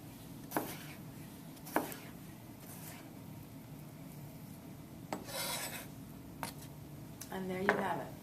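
A knife slicing food on a cutting board in a basic knife-skills demonstration, giving a few sparse, faint cuts and taps spread across a quiet background with a soft voice murmuring.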